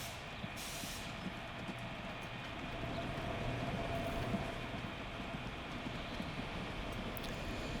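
Train running in the Transport Fever video game, a steady rumbling rush with faint high hiss, continuous and even throughout with no speech.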